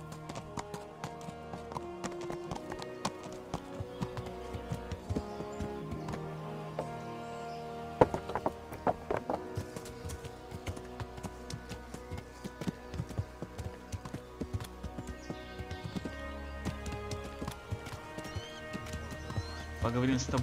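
Horse hooves clip-clop steadily in Kingdom Come: Deliverance, with a whinny now and then over game music; someone speaks in Russian throughout.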